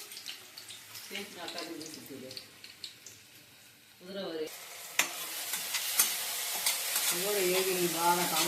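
Onions and tomatoes fry in a pan, first with quiet stirring under a talking voice, then a louder, rising sizzle with clinks and splashy stirring as the voice continues.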